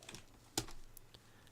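A few sharp keystrokes on a computer keyboard while working in Blender: one loud, close tap followed by a couple of softer presses in a quiet room.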